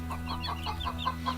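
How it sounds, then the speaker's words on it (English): Small chickens in a backyard flock cluck in a steady run of short, evenly spaced calls, close by and moderately loud over a low constant hum. "the smaller chickens are doing great"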